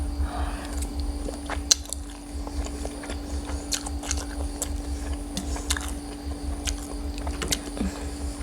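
Close-up crunchy bites and chewing of a spicy Thai wood ear mushroom seafood salad with meatballs and sausage, soft repeated crunches and mouth sounds over a steady low hum, no talking.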